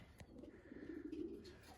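Racing pigeon, a grizzle bird back after three months missing, gives a low soft coo that swells and rolls through the middle of the moment, faint and close, with light rustling around it.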